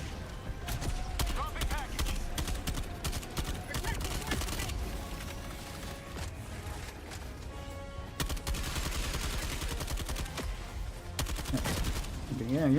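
Dense, continuous gunfire from a machine gun turret in Helldivers 2, rapid bursts running through the whole stretch amid battle noise, loud and close, with some talk underneath.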